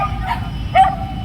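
A big dog gives a couple of short barks and yips at close range, brief bursts over a steady low background rumble.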